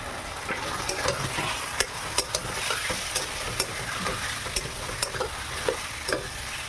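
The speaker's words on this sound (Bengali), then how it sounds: "এইবার ছেড়ে দেবো মাংসটা" Chicken meat with turmeric and Kashmiri chilli powder sizzles in a hot pan under a steady frying hiss, punctuated by regular clicks and scrapes of a spatula stirring, close and without talk.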